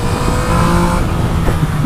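A 2017 Yamaha MT-09 motorcycle engine at full throttle in second gear, a loud, close, continuous engine roar with heavy wind rush over the whole short stretch.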